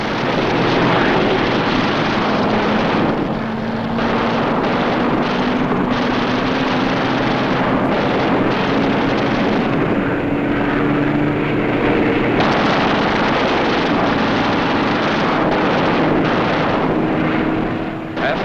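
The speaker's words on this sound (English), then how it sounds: "A B-17 catches fire and goes down in flames." A B-17 bomber in WWII aerial combat, a loud continuous droning engine roar with a slowly rising hum, dense and unbroken for the whole stretch, with a voice talking over it.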